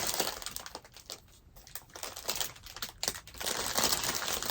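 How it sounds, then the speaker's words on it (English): Thin plastic bag crinkles and rustles as an orchid shipped from Ecuador is pulled out, a continuous close-up crackling with brief lulls and a louder burst at the end. "I'm going to take it out of the plastic bag and I'm going to show you what they are"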